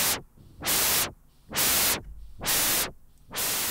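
Synthesizer white noise swept by a maxed-out LFO on the filter cutoff, swelling into four loud, bright bursts about a second apart, each dropping back to a dull, muffled hiss between, with no talk.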